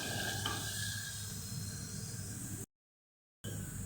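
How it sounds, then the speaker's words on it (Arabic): Garlic sautés lightly in a pan, a soft, steady sizzle and hiss heard close and quiet, broken by a brief silent gap before resuming. "هنشوح التومه بس تشويحه بسيطه خالص"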